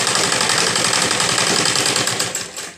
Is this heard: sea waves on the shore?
no